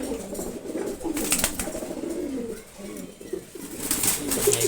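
Low, throaty cooing from a grizzle pigeon rises and falls in repeated phrases at close range, mixed with other birds and some bustle, with a short quieter dip midway.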